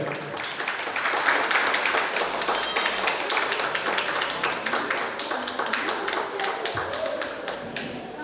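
Audience at a Montessori preschool annual concert breaking into sustained applause, dense rapid clapping building in the first second and continuing steadily, with a faint voice underneath.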